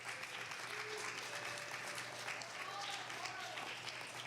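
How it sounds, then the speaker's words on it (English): Steady applause from a live audience at an expo event, a continuous wash of many hands clapping at a moderate distance, with some crowd voices and a low hum underneath. "round of applause for that, please."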